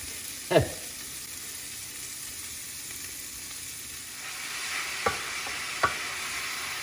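Ground lamb sizzles in a pan with a steady, soft frying hiss, broken by a few sharp scrapes and knocks as a utensil stirs and breaks up the meat.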